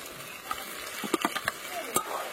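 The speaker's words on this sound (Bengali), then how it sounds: "ভেজে রাখা আলুগুলো দিয়ে দেবো" Fried potatoes tumbled into a pan of fresh peas masala for ghugni, giving a handful of close clattering stirs and scrapes over a soft sizzle, with brief light knocks of the spoon.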